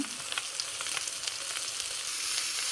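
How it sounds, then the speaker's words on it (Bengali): Mustard-marinated fish fry in hot oil, giving a steady, moderately quiet sizzle with light pops and crackles throughout, heard alone without any voices. "এই তেলটা গরম হয়ে গেছে এখন সরষের মাছগুলো দিয়ে দেবো"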